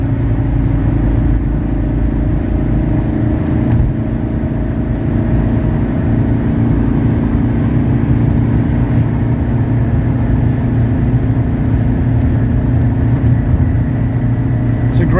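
A 1984 Mercedes 300SD cruises on the highway at about 80 mph. The cabin is filled with a loud, steady drone of engine and road noise, and the driver talks over it now and then.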